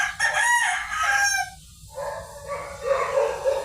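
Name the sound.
chickens and rooster at a chicken farm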